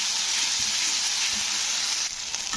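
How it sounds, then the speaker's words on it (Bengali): Ginger-garlic paste being stirred and fried in a pan makes a brief, steady, bright sizzle heard up close, easing slightly toward the end, with no speech. "তো আদা রসুনের পেস্টটা দিয়ে কিছুক্ষণ নাড়তে হবে, যতক্ষণ না আদা রসুনের গন্ধটা কেটে যাচ্ছে।"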